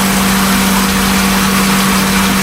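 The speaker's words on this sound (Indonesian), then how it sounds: "kita menghidupkan mesinnya ini ya" The small engine on a pesticide mixing machine runs continuously, loud and close, a steady droning hum with a strong low tone and broad noisy rattle that never changes pace.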